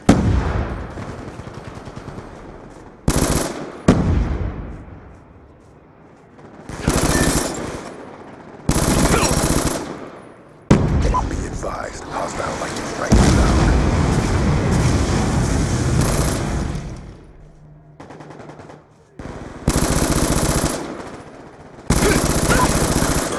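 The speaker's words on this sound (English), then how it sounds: "Throwing grenade." Gunfire and explosions from the video game Black Ops 2 come in loud bursts of sustained automatic fire, with a grenade blast among them, separated by brief quieter gaps and mixed with game sounds.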